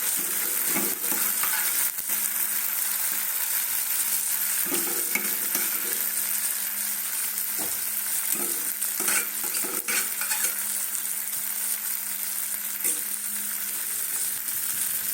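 Green peas sizzle and fry in a pan while being stirred, a steady, close crackle running throughout with occasional scrapes and light clinks of a spoon against the metal, no talking.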